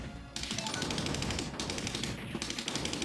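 Rapid bursts of M16 rifle gunfire in The Punisher arcade game, dense automatic rattling in several volleys with brief gaps, loud and continuous over game noise.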